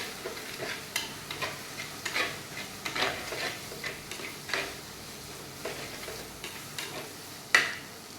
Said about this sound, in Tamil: கருவேப்பிலை பொடி அது போட்டு நல்லா வதக்கிக்கலாம்